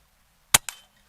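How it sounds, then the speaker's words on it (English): A Hatsan Jet 2 .22 air pistol fires one sharp, close crack followed by a quick, fading second snap. "Last bullet."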